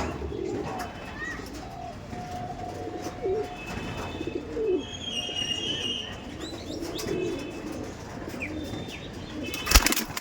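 Tournament-flying pigeons coo in a loft at close range, with brief wing flaps and a sharp clatter near the end, and a voice now and then.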